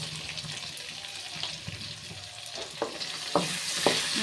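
Pointed gourd frying in a pan with salt and turmeric, a soft sizzle broken by scraping stirs and a few sharper spatula knocks toward the end.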